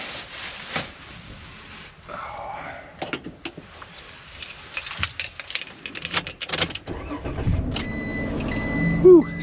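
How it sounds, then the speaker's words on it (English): A car engine starting after a stretch of clunks, door sounds and rustling, then catching and settling into a steady idle near the end, close by. "Whew, started. Haha, chefin', my car started this time."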